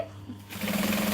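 A sewing machine back stitching a business bag starts up partway through, a close, steady, fast mechanical whir with a rhythmic needle chatter that runs to the end.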